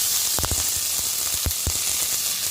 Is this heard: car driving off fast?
no